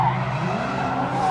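Tires skid and squeal as a car drifts at a Supra owners' meeting in Japan, a loud sustained screech with engine roar underneath over a brief moment.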